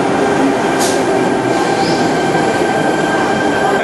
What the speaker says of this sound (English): you see the train pulling in here at the Central Station